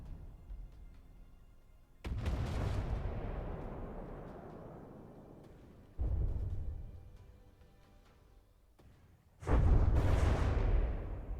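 A tank's main gun in From the Depths fires three heavy booms, each sharp blast followed by a long, rumbling decay, spaced several seconds apart and loud.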